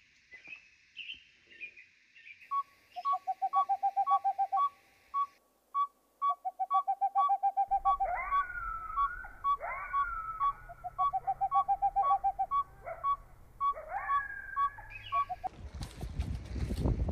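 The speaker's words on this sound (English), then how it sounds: "the nighttime air has just been filled with the sound of boreal owls, a saw-whet owl, I believe it's called" A saw-whet owl hoots at night in Alaska, a fast even series of high tooting notes repeating in bursts, joined by looping whistles and other calls, ending in a noisy burst.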